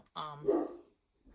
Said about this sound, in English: Sorry about the dog barking, guys.